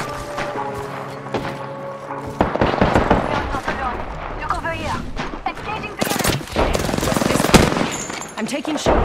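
Gunfire in Apex Legends: loud bursts of automatic fire and single cracks, with mechanical clicks and effects in between, under callouts from an in-game voice.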